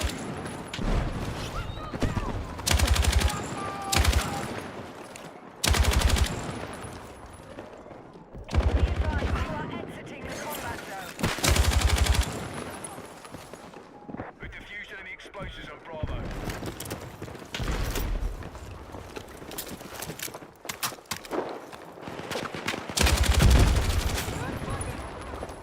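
Light machine gun fire in a military shooter game, loud sustained bursts repeating every few seconds with quieter gaps of ambient battle noise between them.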